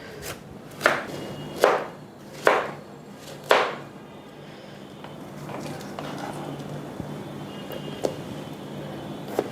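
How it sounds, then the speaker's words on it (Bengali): A knife chopping watermelon into small pieces on a cutting board, four evenly spaced firm thuds close by, followed by quieter scraping and light taps, with no voices. "ছোট পিস করে কেটে নিব এবং সরাসরি ব্লেন্ডারের জগে চলে যাব।"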